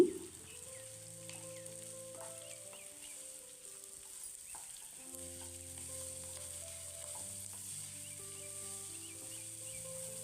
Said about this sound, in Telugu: ఇందులోకి చిన్నగా కట్ చేసిన బీన్స్ ముక్కలు తురుముకున్న క్యారెట్ అలాగే చిన్నగా కట్ చేసిన క్యాప్సికం ముక్కలు వేసుకుని ఫ్రై చేసుకోవాలి